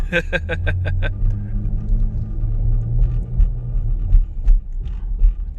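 Low, rumbling noise from a 2020 Dodge Durango with irregular thumps and knocks as tires roll over small road bumps, after a brief burst of rapid clicking at the start.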